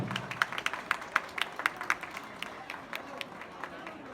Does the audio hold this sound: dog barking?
no